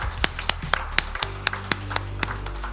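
A company audience claps for award recipients at a 2022 goal-achievement ceremony, a short run of separate, evenly spaced claps at moderate distance over a low steady hum.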